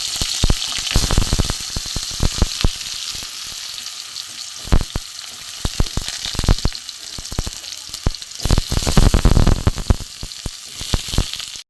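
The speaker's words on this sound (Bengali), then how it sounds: "অল্প তেল আছে ওই তেলেতে আমি আলুটাও ভেজে নেব" Potatoes frying in oil sizzle continuously up close, with frequent loud clatters and scrapes of stirring breaking through the hiss.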